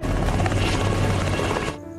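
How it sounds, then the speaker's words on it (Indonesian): A loud helicopter in a film drones with rapid rotor chop, close and steady, then cuts off abruptly near the end. "Tak berselang lama, mereka melihat kedatangan helikopter."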